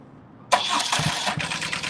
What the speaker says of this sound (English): let's see if the bike will start up